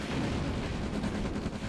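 Explosions and rapid gunfire from a battle in the Red Alert strategy game, a dense continuous rumble of shots and blasts over the short stretch, loud and without speech.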